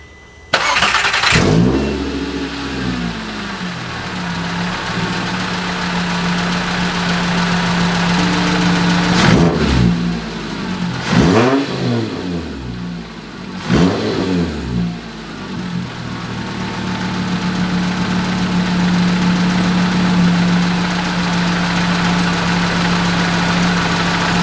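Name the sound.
Volkswagen 2.5 engine idling with new belt tensioner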